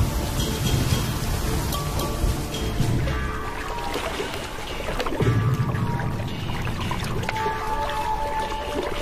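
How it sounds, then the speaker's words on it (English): Heavy rain pours steadily in the African wild, the first real rains in a year, a dense continuous wash of water with a low rumble beneath and no voices. "First real rains for a year."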